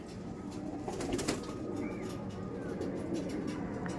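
A racing pigeon with eleven hours sixteen minutes of flight time coos faintly nearby, with a short burst of wing flapping or rustling partway through and soft background noise.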